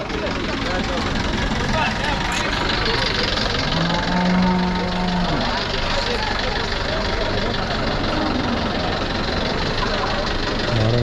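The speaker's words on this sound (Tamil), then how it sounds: "பாருங்க, வண்டி வேறு இடையில் வருது." Vehicle engine idling and rumbling at a native cattle market in Vaniyambadi, a steady heavy drone mixed with crowd noise and voices talking close by.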